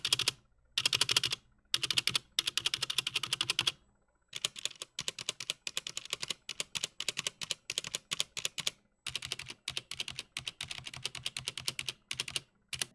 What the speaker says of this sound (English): the massive rattle noise that the stabilizers were making